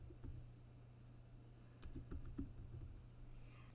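Typing on a computer keyboard: a few quiet key taps and clicks close by over a steady low hum, without any speech.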